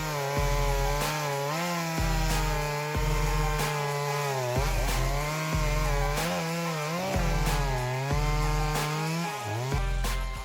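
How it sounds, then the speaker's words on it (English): A Shindaiwa 390SX chainsaw revs in repeated bursts, its loud engine rising and falling roughly every second as it bites through wood, close and continuous. "working ability of this Shindaiwa 390SX chainsaw"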